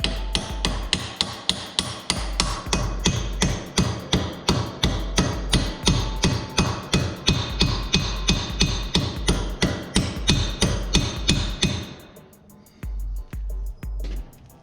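A hammer taps a socket to seat the drive shaft seal on a 2007 Johnson 15 HP two-stroke outboard, making a fast, even run of sharp metallic knocks close up that stops near the end, followed by a few duller thumps.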